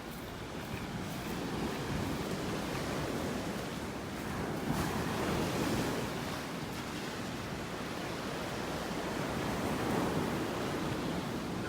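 Ocean surf washing steadily onto a beach in North Naples, Florida, a continuous rolling roar with gusts of wind across the microphone and no voices.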